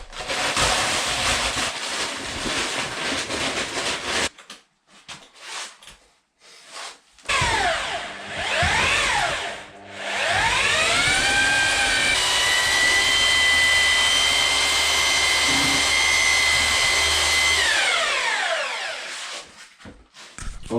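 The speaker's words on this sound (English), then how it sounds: "I'm just going to mix a bit in this little bucket." A power drill with a paddle mixer churns plaster bonding in a small bucket, whirring loudly and close in bursts, stopping and restarting, then rising in pitch through a long steady spin before winding down.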